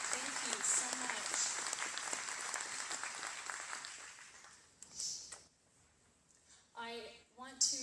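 Audience applause at a meeting fills the first several seconds as dense, steady clapping, then fades out and leaves quieter, sparse sounds and brief speech.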